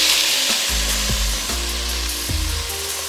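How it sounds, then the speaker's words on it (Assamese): Grated paneer for kalakand is stirred in a pan over a low flame, giving a soft sizzle and several scraping strokes over a steady low hum. "আৰু দিয়াৰ পিছতে ধুনীয়াকৈ লগে লগে লৰাই দিব পনীৰখিনি"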